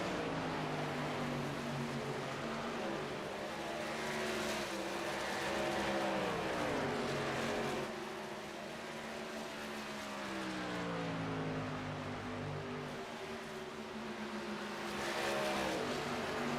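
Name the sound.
racing trucks passing by on track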